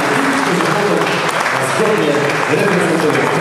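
Brief, dense applause rises from the crowd at a sports gala in Olsztyn, continuous and close, with a voice speaking over it.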